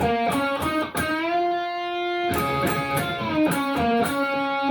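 Distorted electric guitar plays a solo from a song, sustained notes that bend and waver in pitch, with a long held note in the middle before the phrase resumes.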